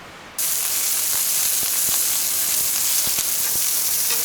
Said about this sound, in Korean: 고기를 또 그 구워보도록 하겠습니다.